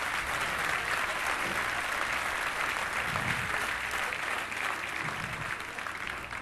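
Prolonged theater audience applause, thick continuous clapping that holds steady and tapers only slightly near the end, with faint crowd noise underneath.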